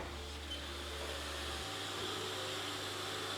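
A Haas dual-spindle CNC lathe running, a steady machine whir and hiss with a low hum that drops in pitch partway through, faint and continuous with no voices.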